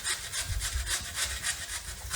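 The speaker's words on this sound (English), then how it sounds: "Using the coarse grate I have on this standing grater" Cauliflower is rubbed against the coarse side of a standing box grater, giving a steady run of rough, rasping scrapes in quick strokes, close and fairly loud, with no talking.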